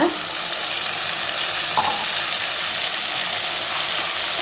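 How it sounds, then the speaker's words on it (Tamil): Tomato paste sizzling and sautéing in oil in a clay pot for a fish curry, a steady close frying hiss with a brief stir clink partway through. "இதெல்லாம் சேர்ந்து நல்லா எண்ணெயில் வதங்கட்டும்"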